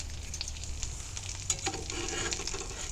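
Food sizzles and fries in a cast iron pan cooked in a greenhouse, a steady close crackle with fine spitting and bubbling throughout, no talking.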